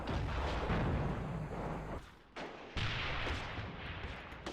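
A 5 cm gun firing HE rounds in the Graviteam war game, heavy booming blasts with rumbling decay, one loud roll, a brief drop, then two more reports, with no talking.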